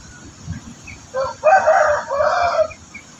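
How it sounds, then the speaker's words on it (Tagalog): Backyard chickens, upgraded native and oriental meat birds, with a rooster crowing one long, loud, close cock-a-doodle-doo over soft background clucking. "mga naging paborito kong manok dito sa aking munting backyard"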